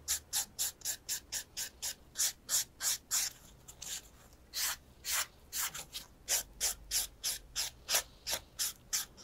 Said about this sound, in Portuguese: e vou polir essa unha.